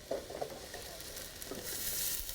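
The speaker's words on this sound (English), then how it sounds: "You can hear that sizzle." Tomatoes sizzle in a hot pan with seasoning, a faint steady frying hiss broken by a few soft stirring scrapes.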